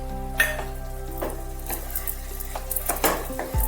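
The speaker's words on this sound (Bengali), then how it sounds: "টমেটোটা দিয়ে ভালোভাবে নাড়াচাড়া করে টমেটোটা একটু নরম হওয়ার মতো সময় দিতে হবে" A spoon scrapes and clatters as chopped tomato is stirred with fish in a cooking pan, with several distinct stirring strokes over a soft frying sizzle and a low steady hum beneath.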